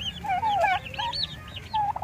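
A mother hen with chicks in a brooder pen clucks and makes soft, warbling calls close by, with a steady murmur of background noise and no talking.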